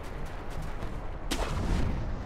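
A firecracker prosthetic tool bursts in Sekiro with a single sharp crack partway through, followed by a rumbling, noisy tail over steady game background sound.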